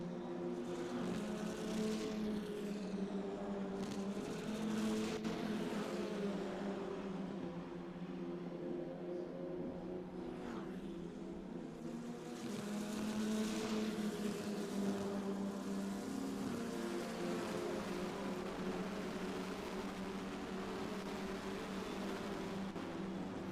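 Formula Regional Americas open-wheel race cars racing at Indianapolis: a faint, sustained engine drone whose pitch rises and falls as cars pass, continuous and without talk.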